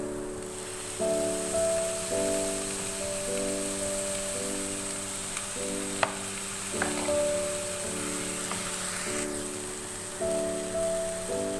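Chicken spring roll filling with soy sauce and chili sauce cooking in a pan gives a steady, moderate sizzle and fry hiss, with faint stirring clinks throughout and no talking.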